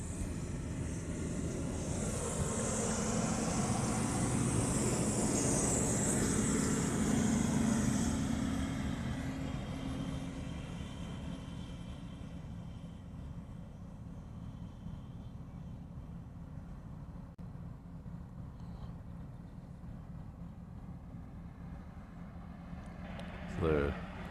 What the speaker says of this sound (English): Hawaiian Flight 10 should be going in just a second. It's about to turn onto the runway.